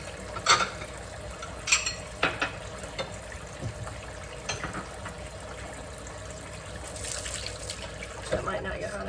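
A kitchen tap runs really hot water, a soft continuous trickle and splash into a sink with occasional clatters and knocks over it.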